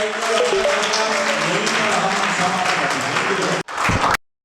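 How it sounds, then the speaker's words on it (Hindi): Loud applause from an audience at an anti-drug awareness gathering, dense clapping mixed with voices and a steady tonal hum, breaking off briefly near the end before a short final burst. "चलिए जोरदार ताली में"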